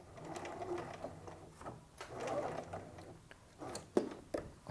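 A sewing machine backstitches to lock the seam on a skirt slit lining, running in short close bursts with brief pauses and a few sharp clicks near the end.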